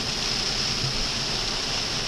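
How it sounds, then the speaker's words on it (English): Car tires rolling through standing water on a rain-soaked road, a dense continuous hiss and wash of spray close by, steady and loud with no voices. "the water on the road is hydroplaning under my tires"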